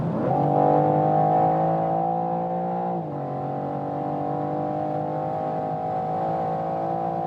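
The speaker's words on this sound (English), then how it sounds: "And even if we are at speed here, like 140 kilometers an hour, and I floor it down" BMW M4 engine under full throttle from about 140 km/h, a loud steady drone heard close from inside the car, its pitch briefly dipping before holding strong and even, with no talk.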